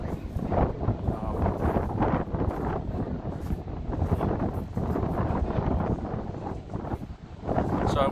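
Strong gusting wind buffeting a microphone on The Edge, the high open-air observation deck at 30 Hudson Yards in New York City, a loud continuous rumbling roar with rough surging gusts.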